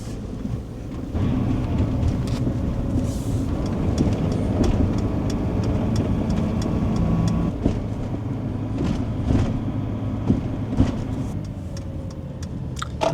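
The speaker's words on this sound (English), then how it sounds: "Let's go for a ride, Ari." A van driving on a rainy day, heard from inside as a steady engine and road rumble with occasional clicks and knocks, no talking.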